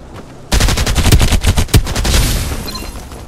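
Gunfire in the Farlight 84 video game, a loud, rapid automatic burst of closely spaced shots with a few heavier reports, tapering into a ringing tail.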